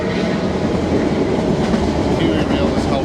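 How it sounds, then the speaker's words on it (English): A train rolls past close by with a loud, continuous rumble and rhythmic clatter of wheels on the rails, some faint speech beneath it near the end. "I can't hear you, there's a train"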